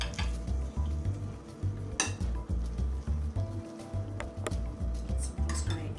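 Roasted vegetables being served, metal utensils clinking and scraping against dishes in a quick rhythmic series, close and clear, no talk.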